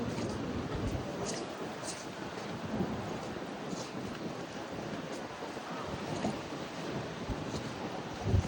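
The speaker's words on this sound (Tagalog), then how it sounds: "Mahangin ngayon." Strong wind buffets the microphone in a constant low rumble, with occasional gusts and faint crackles, and no voices.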